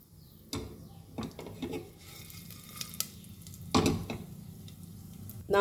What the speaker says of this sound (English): now I will saute my whole masala in this.